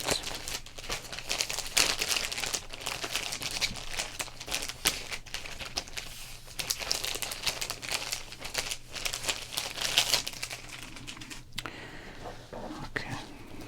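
Sports cards are handled and sorted up close, with continuous crinkling of plastic sleeves and papery rustling, shuffling and tapping, fairly quiet and without talk.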